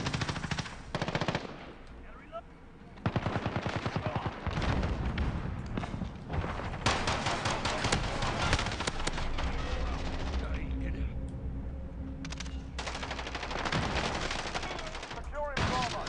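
Rapid bursts of automatic gunfire from a multiplayer shooter game, loud and dense, with machine-gun rattles and booms layered over continuous game noise and occasional voice callouts.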